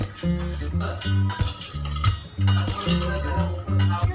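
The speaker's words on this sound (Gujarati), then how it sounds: "આપણે ગોટલીને ઘીમાં શેકવાની છે. આપણે એને સરસ હલાવીશું." Mango seeds roasting in ghee are stirred in a pan with a spoon, giving loud, close rhythmic clinks and scrapes of metal on metal in repeated bursts.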